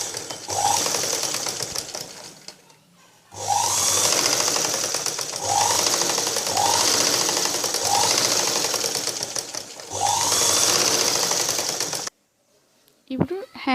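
A sewing machine stitching a blouse runs in loud, rapid bursts separated by short pauses, and the motor stops abruptly near the end.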